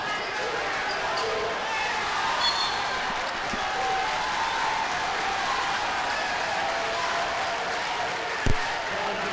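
A home crowd at a high school boys basketball game, Skyline at Pioneer, keeps up a steady roar of cheering and clapping, with a commentator talking over it and a sharp thump near the end.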